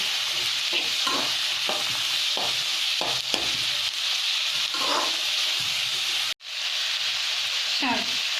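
Chopped tomatoes sizzle in a hot pan with onions and green chilies while an egg roast is cooked, a steady hiss broken by scraping spatula stirs, with a brief dropout partway through.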